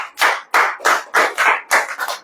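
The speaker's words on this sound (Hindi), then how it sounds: "ताली नहीं बजाओगे?" An audience at a Hindi sermon claps in several rhythmic waves, each bright burst of hand claps rising and falling, loud and close, with no talking over it.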